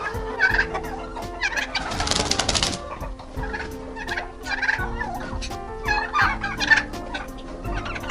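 Male turkeys gobble repeatedly in rattling bursts during mating season, close and fairly loud, with a brief rustling noise partway through.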